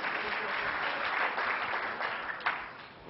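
Audience applause fills the room in a steady, dense clatter of many hands, fairly even throughout and fading slightly at the end.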